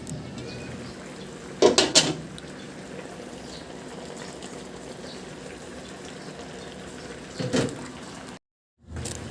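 A metal lid set onto a cooking pot of eggplant and okra, two clattering clanks near the start and another near the end, over a low simmering background.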